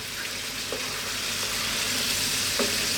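Tomato sauce sizzles in a pan over lowered heat, a continuous dense hiss close by with a few soft stirring strokes.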